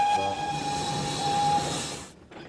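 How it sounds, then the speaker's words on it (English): A new cartoon train whistle blows loud and sustained for about two seconds over a hissing, rumbling train before stopping abruptly, leaving only faint trailing noise. "The new whistle doesn't sound like an usual cheerful one to Layla. In fact, it sounds different, but very loud."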